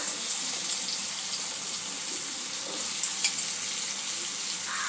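Potatoes hit onion and tomato frying in a pan of hot oil, giving a soft, steady sizzle with faint crackles and a few small pops, no voices.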